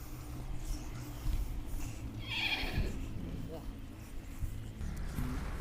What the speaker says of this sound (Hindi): ये घोड़ी का बच्चा आ गया जी।